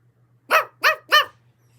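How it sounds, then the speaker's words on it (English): Three quick, sharp dog barks in a row, close and loud, with quiet hum before and after. "They even rescued our family dog Odie together."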